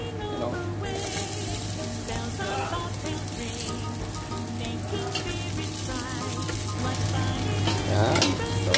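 Garlic and onion fry in hot oil for pork leg hamonado, a steady, dense sizzle that runs the whole time and swells slightly louder near the end, with no talking.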